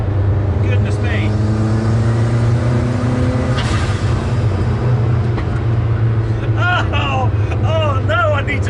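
A Lancia Delta Integrale with a big boost gauge drives along, its engine a loud continuous drone with rising and falling tones as it accelerates, with a person talking over it.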